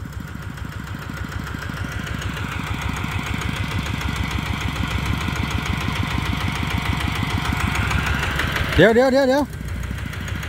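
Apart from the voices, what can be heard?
Kubota RT155 tractor engine running in a rice field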